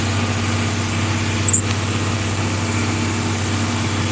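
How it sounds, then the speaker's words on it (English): A tractor pulling a grain drill planting wheat, running on auto steer, gives a steady low engine drone with a constant mechanical hum, near and even throughout, with no talking. "We're drilling a little wheat."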